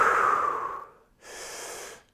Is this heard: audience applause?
no